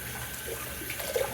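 A shaving soap tub is rinsed under running tap water, a short soft stream of splashing and trickling heard alone at low level.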